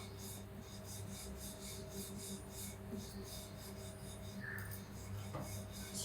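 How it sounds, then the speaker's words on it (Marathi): A rolling pin rolls out puran poli dough in soft, faint strokes. The rubbing swishes repeat in an even back-and-forth rhythm, close by and unaccompanied. "दुसरी लाटून घेते"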